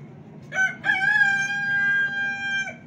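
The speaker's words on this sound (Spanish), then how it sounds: "Todos estos animalitos, gallinas, guajolotes que ustedes ven acá, también son donación para San Lucas." Rooster crowing among chickens and turkeys donated to a church in San Lucas, a single long, loud, harmonic crow after a short opening call, close by over a low rumbling background.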